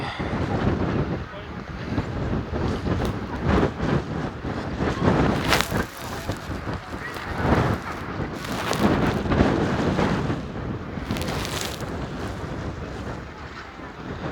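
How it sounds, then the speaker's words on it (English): Heavy wind buffets the microphone in gusty, rumbling waves, with rain and a voice speaking faintly underneath, beside a lava pool spilling over in Iceland. "Very windy and rainy today, unfortunately."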